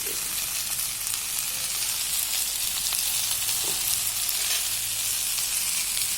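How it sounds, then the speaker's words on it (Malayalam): Ground coriander, chili and turmeric powder sizzle as they sauté in a hot pan, with no voices over it. The frying hiss is steady and close, with a few faint stirring scrapes. "ഇതൊക്കെ ഒന്ന് വഴറ്റാം"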